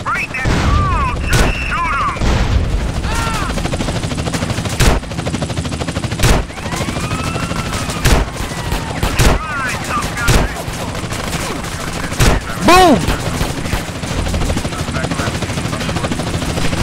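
Gunfire in the video game GTA San Andreas, modded: loud, close shots in scattered bursts and single cracks over a constant background din, with voices talking in between.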